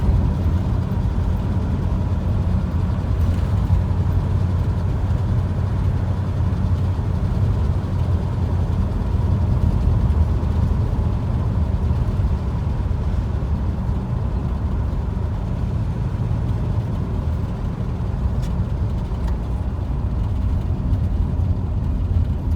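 A 1959 Chrysler Saratoga fitted with a disc brake conversion drives along, giving a steady, even engine and road drone that holds for the whole stretch with no talking.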